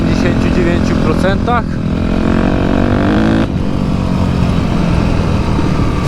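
A homemade Yamaha YZF 250 V8 motorcycle engine with a ported carburetor runs at a steady, loud idle. A few short whistling sounds appear early on, and the engine note shifts slightly midway through.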